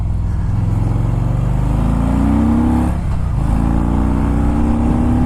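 A Harley-Davidson Fat Boy S with a 110 Screamin' Eagle engine accelerates hard on the road, its loud, close engine note climbing through gears with a brief dip around the shift, then rising again.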